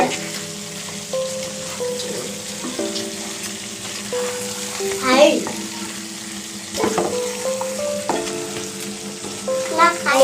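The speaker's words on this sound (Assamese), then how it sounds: "5 মিনিটৰ পিছত আকৌ ঢাকনখন আঁতৰাই অকণমান মাংসখিনি লৰাই চাওঁ।" Broiler chicken meat frying in oil in a pan, giving a steady sizzle with occasional clanks and scrapes as it is stirred, fairly close and with no talking.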